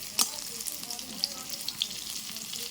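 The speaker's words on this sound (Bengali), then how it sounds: "একদিক ভাজা হয়ে গেছে উল্টে দেবো এবার" Steady crackling sizzle of egg pieces frying in a pan, close up, with a few small pops and the scrape of stirring and turning.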